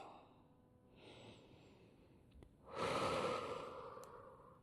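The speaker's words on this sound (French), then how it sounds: "Prends 2 respirations ici." Slow, deep breaths during a vinyasa yoga flow, a soft inhale followed by a stronger, louder exhale, close and alone with no talk.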